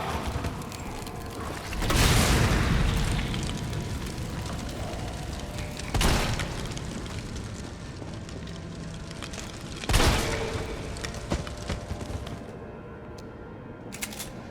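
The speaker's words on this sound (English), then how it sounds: "a combination of fire and shotgun seems to do it" Shotgun blasts and fire in the Resident Evil 3 remake, three heavy booming blasts spaced several seconds apart, each followed by a rumbling decay over a constant roaring background, no talk.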